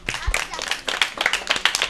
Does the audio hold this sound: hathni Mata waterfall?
no